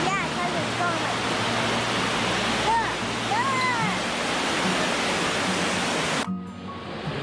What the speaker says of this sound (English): here we are at the upper falls here at Helton Creek Falls.